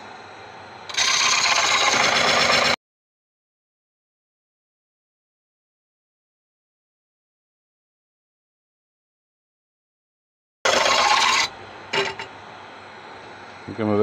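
Tigerwood bowl turning on a lathe, the gouge cutting shavings in a loud, steady rasping burst, then a long silence before the rough cutting returns with brief broken scrapes.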